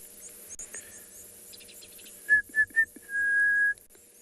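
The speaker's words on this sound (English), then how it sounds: "You can maybe hear the orange-breasted bushshrike in the background." An orange-breasted bushshrike calls at sunset on safari: three short clear whistled notes followed by a longer sustained whistle, fairly distinct over quiet bush ambience.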